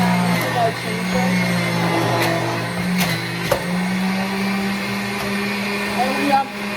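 A blender whirs loudly and steadily as it blends fruit and ginger, a continuous close motor drone with occasional knocks, while a person talks over it.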